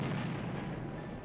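Explosions in the X-COM: Terror From The Deep video game: a dense, steady low rumble of blast noise filling the whole short moment, loud and continuous with no clear separate hits.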